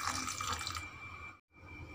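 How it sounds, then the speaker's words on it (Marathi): A glass of water is poured into a bowl of grated raw mango, a short splashing pour that stops after under a second, leaving a quiet kitchen hum. "आणि त्यामध्ये टाकायचं 1 ग्लास पाणी."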